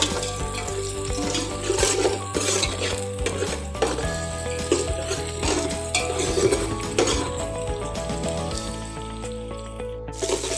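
Onions sizzling in a pan with bay leaf and garam masala while being stirred, a steady frying hiss broken by repeated scraping and clinks of the spoon against the metal pan, close up with no talking.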